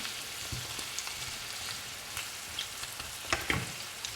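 Beef tongue pieces fry with softened onion in a pan, a steady close sizzle broken by a few sharper stirring scrapes near the end.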